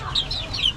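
Gray pullets and chickens in a backyard flock clucking softly with overlapping, wavering calls, fairly close, in a brief moment with no speech.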